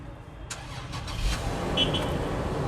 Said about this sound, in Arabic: هدور لكم العربيه عشان تسمعوا صوت المحرك